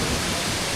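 Small waterfall at Takachiho gorge in Japan, a brief, even wash of rushing water heard close and steady.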